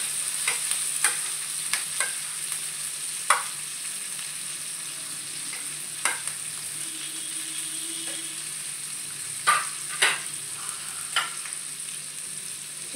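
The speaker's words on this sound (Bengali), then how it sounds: "গার্লিকটাকে আগে আমাকে ভালো করে ভেজে নিতে হবে" Garlic, green chili and capsicum sizzle in oil in a pan, a steady close frying hiss broken by sharp scrapes and clinks as a spatula stirs them now and then.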